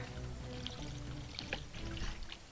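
Water pours and trickles from a water bottle in a few short splashy bursts, faint and close, over a low background hum.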